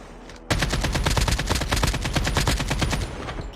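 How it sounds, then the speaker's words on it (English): Rapid automatic weapon fire in the mobile shooter Call of Duty: Mobile, a dense, loud burst of evenly spaced shots starting abruptly and running about three seconds before trailing off. "So I'll get a little closer and then shoot him down if I can"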